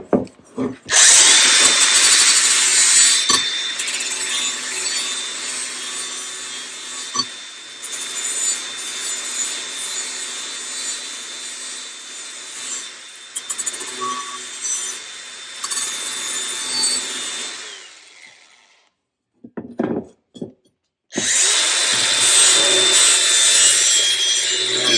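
A zero turn lawn mower blade is ground to sharpen it, a loud, continuous harsh grinding whine up close that briefly drops out and cuts off near the end before starting again.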